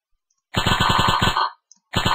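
An airplane's machine gun fires in the Flash Flight Simulator video game: a loud, rapid burst of evenly spaced shots lasting about a second, then a short pause before another burst begins.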